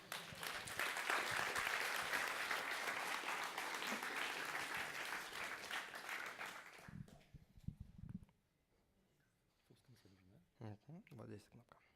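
An audience at a React Amsterdam meetup applauds loudly for several seconds as a speaker is welcomed on stage; the clapping fades out, followed by a few quiet voices talking near the microphone.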